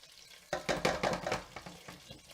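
Lightly browned garlic frying in a pan for macaroni with sausage and broccoli: a quiet start, then a run of close scraping, stirring bursts and crackle that gradually settles.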